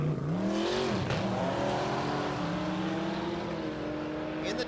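A Jotech Corvette C8 races down the drag strip at Mid America Dragway, its engine loud and close, revving and climbing in pitch as it accelerates through the run.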